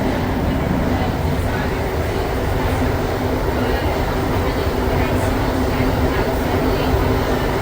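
A Montreal metro train rumbles steadily along the tracks between Montmorency and Lionel-Groulx stations at night, a loud, continuous roar with faint rhythmic clatter throughout.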